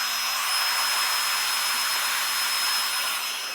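A hair dryer blows heat steadily onto a synthetic wig, a loud, continuous close whoosh with a faint high whine running throughout.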